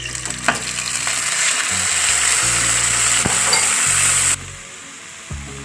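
Chicken sizzling and frying loudly in a hot pan, with stirring scrapes and clatter, then the sizzle drops abruptly to a quieter hiss.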